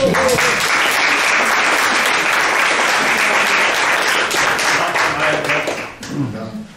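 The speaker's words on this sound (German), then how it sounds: "das ist auch mal ein Applaus" Loud, sustained applause from a concert audience, dense clapping filling the room for several seconds before thinning out near the end, with a voice briefly talking over the tail.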